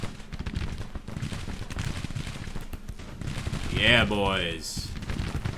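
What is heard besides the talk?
artillery and gunfire in the video game Grand Tactician: The Civil War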